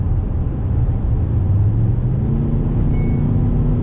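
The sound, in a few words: Škoda Kodiaq RS SUV accelerating at full throttle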